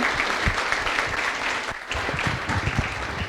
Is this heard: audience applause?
yes